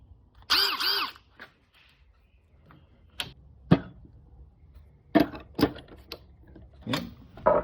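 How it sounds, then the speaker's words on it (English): An impact wrench fires several short, sharp rattling bursts while it removes wheel spacers, with a few longer bursts spaced apart by quiet gaps and no speech. "I just need my impact, and I'm gonna pop these off, call it good."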